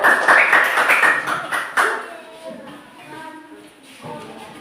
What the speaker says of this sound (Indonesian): Coba tepuk tangan buat kelompok satu